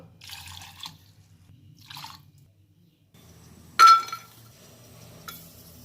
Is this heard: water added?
yes